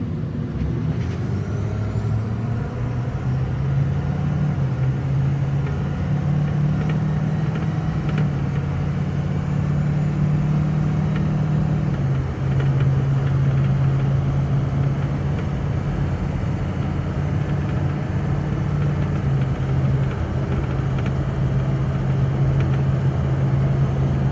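Ford 6.0L Powerstroke diesel truck with a tuned FICM pulling from a stop at quarter throttle, its engine drone loud and steady inside the cab while the pitch rises gradually across a long, unbroken acceleration.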